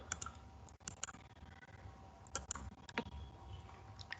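Quiet, crisp clicks of a computer mouse at a desk, several light taps scattered over a few seconds against a low background hum, with no voice.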